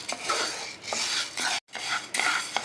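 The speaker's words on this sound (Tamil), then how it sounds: "இப்போ உளுந்து வறுத்து எடுத்துக்கலாம்" Black urad dal is dry-roasted in a pan, stirred with a spoon for a continuous gritty scraping and rustling of the lentils against the metal, close, with one brief break.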